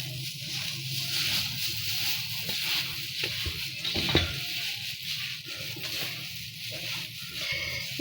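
A dry masala of red chillies and salt is stirred steadily, making a continuous coarse rustling hiss with one sharper scrape midway and no talk.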